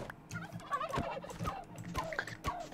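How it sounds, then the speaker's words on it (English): Turkeys gobbling in the video game Conquest Reforged, repeated rapid warbling gobbles close by, with a few rhythmic bursts over a couple of seconds and no talking. "Found some turkeys."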